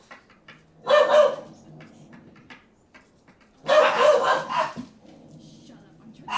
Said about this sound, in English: the dogs are angry